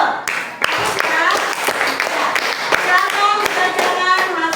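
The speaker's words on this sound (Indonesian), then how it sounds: "Baik, tepuk tangan dulu." A school class clapping hands together in a classroom, a burst of sharp claps that carries on fairly loudly over voices and children's chatter.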